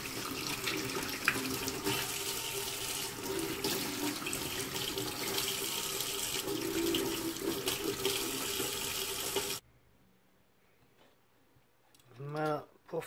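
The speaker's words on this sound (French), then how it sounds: "On va les passer sous l'eau, bien les rincer." Water from a tap runs steadily over dyed material being rinsed in a sink, a continuous splashing rush for most of the time before cutting off, followed by a few faint clicks and a brief closing noise.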